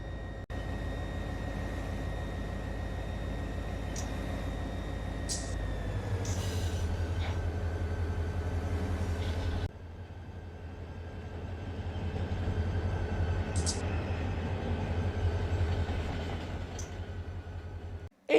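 A simulated train in Run8 Train Simulator rolls steadily through town, with a low diesel rumble from BNSF SD40 locomotives and continuous wheel and rail noise. Brief higher squeals and clanks come through, and the engine note steps up partway through.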